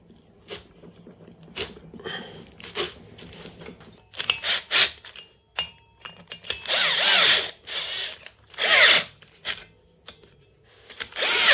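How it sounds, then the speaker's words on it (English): A power drill whirs in short bursts, then longer grinding runs as it bites into 20 kg metal workshop weights, with clicks and handling noises between. "I'm drilling directly into the weights, again working up to the size I need before tapping a hole into them."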